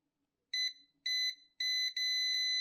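Multimeter continuity beeps while probing capacitors on a no-power Nintendo Switch board near the M92 chip, four crisp high-pitched electronic tones in quick succession, the last ones longer, with no talking.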